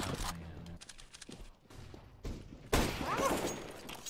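Bursts of gunfire in the video game CS:GO, a few sharp shot clusters and a heavier volley near the end, with brief speech mixed in.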